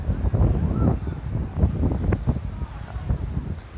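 Strong wind buffets the microphone at Mandvi beach in Kutch, a rough continuous low rumble with gusting surges, and a voice talks beneath it.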